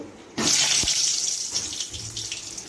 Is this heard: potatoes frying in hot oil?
yes